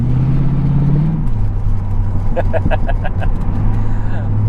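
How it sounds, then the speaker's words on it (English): A 1980 Corvette's loud, rumbling exhaust with no mufflers drones continuously while driving, its pitch dropping after a shift, with a run of rapid crackling pulses midway. "The exhaust is pretty loud."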